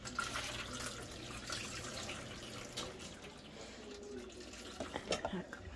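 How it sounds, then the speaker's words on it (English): Water poured into a container of rice to rinse it, a steady splashing flow near the mic that eases off toward the end, with some talking alongside. "Then pour the first water."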